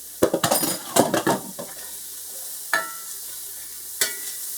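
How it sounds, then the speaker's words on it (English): Onions and ground beef sautéing in a pan for a beef stroganoff, with a faint sizzle under a run of close stirring and scraping clatters, then a few sparse single knocks of a utensil against the pan. "I just usually let them saute for a couple of minutes"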